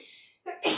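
A single close sneeze indoors near a family of pet mice, a soft intake of breath followed by a sharp, bright burst of air.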